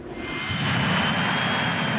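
A 10,000-horsepower jet dragster engine roars steadily on a quarter-mile run, a broad rushing blast that swells slightly and holds at full power.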